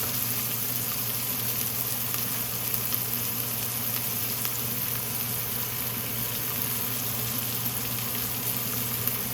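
Half an onion cooking in a pan for dal palak, a constant close sizzle with soft bubbling that holds steady and even from start to finish, with no voices.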